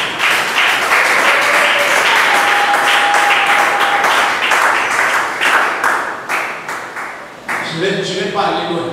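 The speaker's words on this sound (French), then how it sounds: "Est-ce que tu peux acclamer pour Jésus-Christ?" Congregation at a French-speaking church service applauding and cheering for Jesus Christ, a dense, sustained wash of clapping that fades toward the end as a voice starts talking over it.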